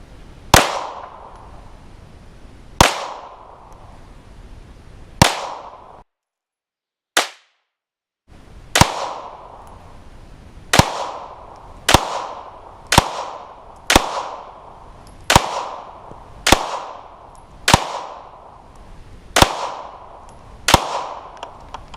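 Gunshots from a Glock Gen 3 pistol with an OEM lower and compensator ring out at a shooting range, about fourteen sharp, loud reports, spaced irregularly at first and then coming faster. One gap is near-silent, and there is no talking.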